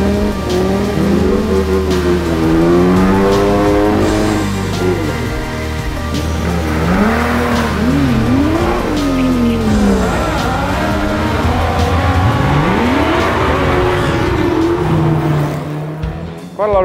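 Classic cars launch hard up the Simola Hillclimb in Knysna, engines revving loudly and climbing through the gears with sweeping pitch changes, a continuous close roar.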